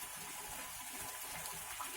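Water runs steadily into a pan of lightly fried paneer seasoned with garam masala, a soft continuous gushing and trickling hiss that stays quiet and even throughout.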